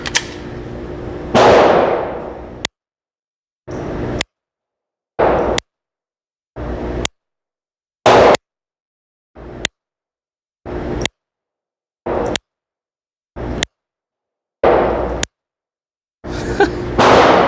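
Glock 44 .22LR pistol firing about a dozen sharp, snappy shots one at a time, each loud and close with a short crack, spaced apart by brief silences.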